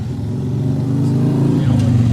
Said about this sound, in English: it's kind of loud motorcycle going by